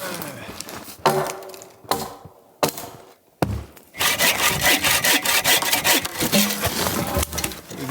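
Hand saw cutting firewood outdoors on a winter night, starting with a few separate strokes and knocks, then settling into a fast, steady back-and-forth rhythm of rasping strokes close by.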